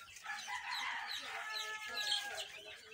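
Month-old Fayoumi chickens on a poultry farm cluck and call in short, overlapping bursts, fairly faint and heard without speech.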